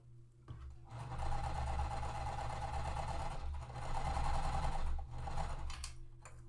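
A home sewing machine winds a new bobbin for quilt piecing. It gives a steady, continuous mechanical whir that runs for several seconds, pauses briefly, then resumes at a loud, even pace.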